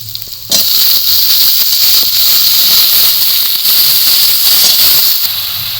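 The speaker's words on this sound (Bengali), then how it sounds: "এবার এখানে কেটে ধুয়ে রাখা সবজিগুলো সব দিয়ে দেবো" Cut, washed vegetables hit hot oil with lightly browned fried onions, setting off a loud, steady hiss of sizzling that holds for several seconds after the sudden start, with faint stirring scrapes underneath.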